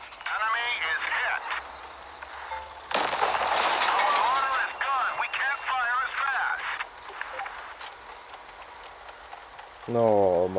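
Tank cannons fire in the mobile game World of Tanks Blitz, with booming shots and bursts of impact noise arriving at intervals while a player talks over the action.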